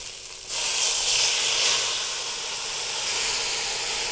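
Bourbon poured into a hot pot for beef bourguignon bursts into a loud, steady hiss and sizzle of boiling liquid. The hiss holds strong for several seconds before easing slightly.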